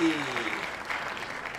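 Audience applause at a classroom show, a brief burst of clapping that fades quickly over a short moment, mixed with a faint tonal sound at the start.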